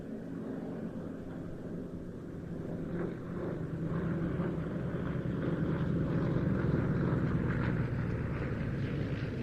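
A Yak 52 aircraft flying at an airshow, its propeller engine droning steadily and slowly growing louder at a moderate distance, with light wind noise.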